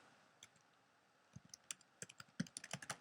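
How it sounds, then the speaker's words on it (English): Keys clack on a computer keyboard as a title is typed in all caps. The clip opens nearly silent, then a few scattered taps build into a steady run of close, light keystrokes with no speech. "I want you to type in all caps the words Principles"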